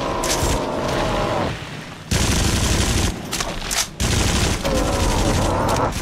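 Dense bursts of gunfire in the VR shooter Until Dawn: Rush of Blood, loud and sustained, breaking off briefly twice before resuming, with no talk over it.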